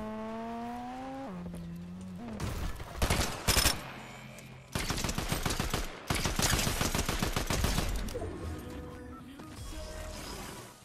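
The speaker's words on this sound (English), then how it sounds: "It's good hip firing." Rapid hip-fire bursts from a gun in a video game, a match of high-elimination solos: loud rattling volleys in two long stretches with short pauses, following a rising tonal sound at the start.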